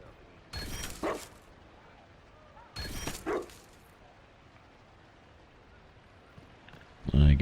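A dog in Dragon Age Inquisition giving two short bursts of barking and yipping with quieter stretches between, followed by a loud thump near the end.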